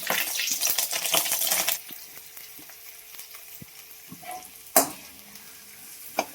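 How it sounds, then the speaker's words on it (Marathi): Cumin, mustard seeds and green chillies crackle and sizzle in hot oil, a loud burst of frying at first that settles into softer spitting with occasional sharp pops and clinks; no talking. "तर तेल तापले जिरे मोहरी मिरच्या"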